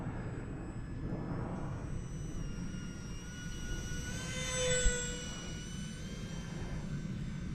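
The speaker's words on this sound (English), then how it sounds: "I'm already pulling the throttle back because I like to fly these jets slow" A micro electric ducted-fan radio-controlled jet flies slowly at reduced throttle, a faint whining whoosh that swells briefly as it passes nearer, then fades back to a thin distant hum.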